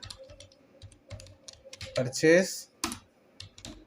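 Close, fast typing on a computer keyboard while entering a purchase voucher in Tally accounting software, a run of light clicks and one louder burst of keystrokes, with a voice speaking over parts of it.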